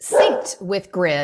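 A dog barks a few short times in the background while a person speaks over it.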